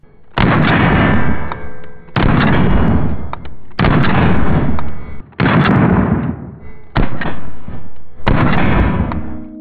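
Ruger RXM pistol shots played back in slow motion, heard as six loud, booming, stretched-out reports with long decaying tails, evenly spaced and close, with no talking.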